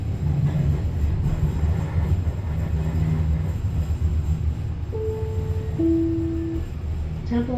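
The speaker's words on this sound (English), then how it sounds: "Train start and stop quickly. Taking the tracks another 3 stops." Light-rail train on city tracks near Temple Square in Salt Lake City, rumbling steadily as it starts and stops, with tonal squeals and hums rising near the end and some low background voices.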